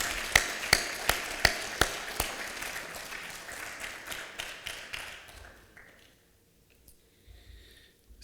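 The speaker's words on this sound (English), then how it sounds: "Maybe we can have one more round of applause, if you don't mind." Applause from a gala audience honoring an evening's honoree, opening with a few sharp, distinct claps that blend into a soft, scattered patter before fading to quiet near the end.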